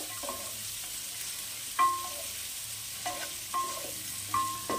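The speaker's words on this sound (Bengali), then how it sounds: "এবার এটা একটু ভাজা ভাজা হবে।" Thinly sliced potatoes fry in a pan for a Bengali vegetarian capsicum dish, giving a soft, steady sizzle. Occasional sharp scrapes and clinks come from stirring with a utensil, and no one speaks.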